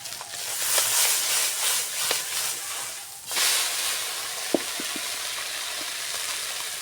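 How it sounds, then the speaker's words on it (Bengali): Fish sizzling steadily in hot oil in a kadai, the fish being turned over midway, with a broad frying hiss, a short dip, then a renewed crackle and a few sharp spatters and pops. "মাছগুলোকে এবার উল্টে দেব।"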